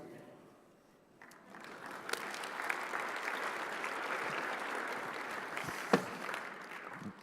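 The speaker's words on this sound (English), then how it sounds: "Really, I don't deserve this applause." Applause from the audience at a talk on data visualization starts after a quiet moment and holds as a steady, fairly distant wash of clapping, with a few louder claps and a voice over it.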